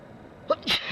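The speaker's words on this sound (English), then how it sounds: "Excuse me for that. Sneeze." A single sharp sneeze with a quick intake and a burst of breathy noise, close and fairly loud against a quiet background.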